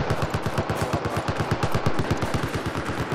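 Rapid, continuous machine gun fire in the video game Battlefield 4, dense, loud and close, a rhythmic stream of shots with no pauses.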